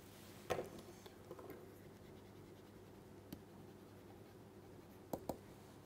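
Pen or marker writing out a summary of particle-on-a-ring results during a chemistry lecture: faint, sparse scratchy strokes with a few short taps, quiet and close, no talking.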